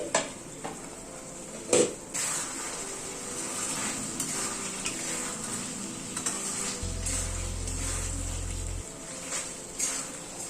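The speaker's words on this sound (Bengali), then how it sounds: "চিকেনটা আবার একটু ঢেকে দিয়ে আর একটু কষিয়ে নিচ্ছি চিকেনটা" Chicken being sautéed down in a covered pan, a steady sizzle under repeated stirring and a few sharp clinks of utensil against metal, continuous and close, without speech.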